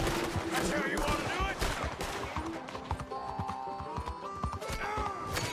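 A horse ridden through a frontier town in a western game, its hooves clip-clopping steadily under gunfire, scattered shots, a whinny and a talking voice.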